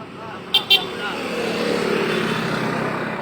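Motorcycles with loud aftermarket exhausts rumble at a night police check in Makassar, a growing engine drone building in loudness after two short sharp blips, with voices speaking alongside.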